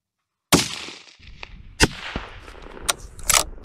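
Rifle shots are fired at a Wish body armor plate from 250 yards out, starting with a sharp loud crack and then a few more sharp reports and impacts in the open air, with no talking.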